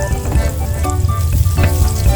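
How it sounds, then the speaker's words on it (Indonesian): Shallots sizzle steadily in a little oil in a nonstick pan, a loud, close, continuous frying crackle with no talk over it. "kita berikan sedikit minyak, kita goreng terlebih dahulu untuk bawang merahnya."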